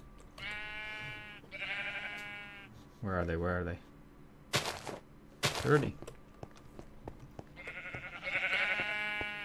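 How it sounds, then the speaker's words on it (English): Minecraft sheep bleat in short wavering calls, several spaced across the scene, mixed with clicky game sounds and a couple of sharp bursts, while a person speaks briefly over them. "Where are you, sheepies?"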